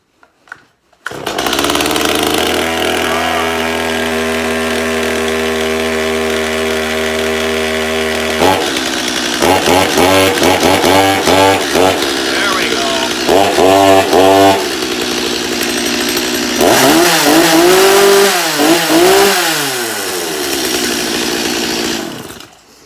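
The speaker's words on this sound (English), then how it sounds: "Nothing sounds quite like the old gas chainsaw there." A Stihl 16-inch gas chainsaw starts and idles with a steady buzzing drone, then revs repeatedly in loud bursts and sustained high whines, close and dominant before cutting off.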